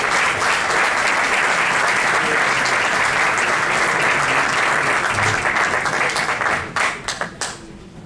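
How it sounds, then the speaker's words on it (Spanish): Loud, sustained applause from an audience welcoming the mayor back onto the stage at a festival event, steady dense clapping that thins and tapers off near the end. "al que pedimos recibir con un fortísimo aplauso nuevamente en el escenario"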